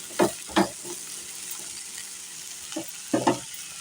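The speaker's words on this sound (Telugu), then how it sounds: "ఈ సాల్ట్ కలిసేలాగా చక్కగా అటు ఇటు తిప్పేసుకోవాలి." A spatula stirs salted cabbage masala curry in a pan. It makes a few close scraping strokes in two bursts over a soft, steady sizzle.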